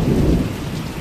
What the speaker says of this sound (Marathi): गारा पण पडले. गारा अजून पडतं.